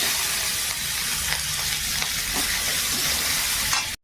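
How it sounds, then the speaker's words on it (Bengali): Onions sizzle steadily in hot fish oil with nigella seeds and dried chilli, a dense close crackle with faint stirring scrapes throughout, cutting off abruptly at the very end. "এই যে পেঁয়াজগুলো একটু লাল লাল করে ভেজে নিলাম"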